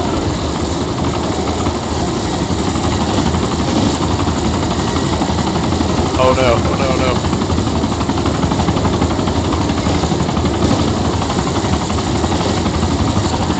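In a helicopter combat video game, a damaged helicopter engine drones as a steady, loud, continuous roar, with a brief voice exclamation partway through.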